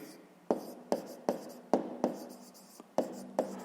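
Pen strokes on paper during a fifth-grade maths exercise, a series of about eight sharp scratchy bursts at irregular short intervals, close and fairly quiet with no talk.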